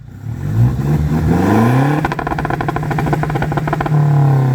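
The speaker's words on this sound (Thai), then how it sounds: "ลองเบิ้ลตัดกันครับ" Toyota Revo Prerunner pickup engine, with a tuned ECU, revs up with a climbing whine, then bounces off the rev limiter in a rapid stuttering cut before settling back to a steady idle, loud and close with no talk.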